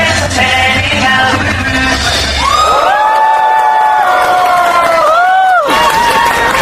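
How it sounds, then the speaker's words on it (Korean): A rally crowd shouts and cheers together in loud, close bursts, with rising whoops and sustained chanting voices over clapping. "다시 한번 큰 박수 부탁드립니다."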